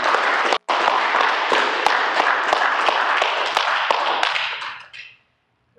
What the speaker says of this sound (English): let's give Justin a round of applause